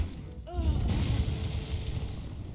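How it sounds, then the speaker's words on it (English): Arcane Explosion spell effect in the Hearthstone card game: a deep booming burst with a short rising magical tone, followed by a low rumbling tail that lingers under a steady background. "There he is using Arcane Explosion."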